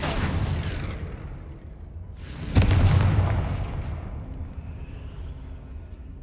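Confringo blasting spell from Hogwarts Legacy going off in a single loud, deep explosion that swells and then rumbles down over a few seconds against a steady game ambience.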